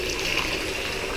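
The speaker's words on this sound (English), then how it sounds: "So I'm going to wash off these pads now." Tap water gushes steadily and loudly while filter pads from a Fluval 306 canister filter are rinsed under it, a continuous splashing hiss with no talking.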